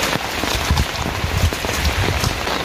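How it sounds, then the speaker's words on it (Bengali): Rain falls steadily, a dense close patter of drops on surfaces with a constant, loud hiss. "বৃষ্টি হচ্ছে আমাদের জন্য রহমত"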